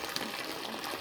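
Water gushing steadily out of the heater hoses of a 1994 Range Rover during a coolant flush, a continuous broadband rush with no talk over it.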